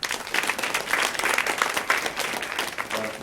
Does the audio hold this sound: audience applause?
yes